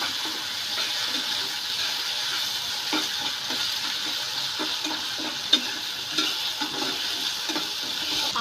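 Ginger, garlic and onion paste frying in a pan, a constant bright hiss of oil with soft rhythmic stirring scrapes underneath.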